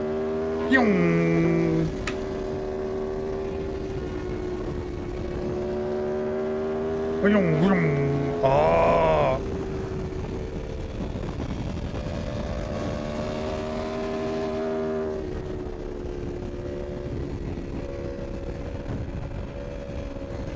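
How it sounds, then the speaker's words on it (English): Aprilia motorcycle street racing on a Malaysian highway, its engine droning steadily with rising and falling pitch sweeps as bikes pass, fairly loud throughout, with brief bursts of voices reacting over it. "This Aprilia sounds amazing."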